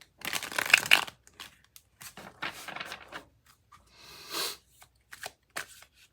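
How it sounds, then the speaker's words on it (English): Tarot cards are shuffled by hand up close in several crisp riffling bursts separated by short pauses, with no talking. "I'll do one more shuffle."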